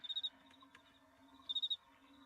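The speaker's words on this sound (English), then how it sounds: "Crickets." Crickets chirp in two short bursts of rapid, shrill pulses separated by a quiet gap, with a faint steady background hum in between.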